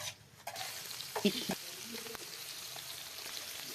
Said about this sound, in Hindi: कलेजी को अच्छी तरह से फ्राई करेंगे हम